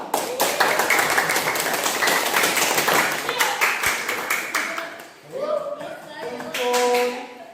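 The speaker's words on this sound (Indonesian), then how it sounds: "tepuk tangan untuk kita semua" A classroom of students claps together for everyone during a practice teaching lesson, a lively burst of hand claps that fades out, then a teacher's voice speaks.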